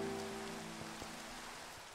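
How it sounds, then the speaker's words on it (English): Rain falling in the video game Minecraft with the Pixelmon mod, a faint steady hiss of drops with a low tone fading beneath. "Let's get out of the rain here."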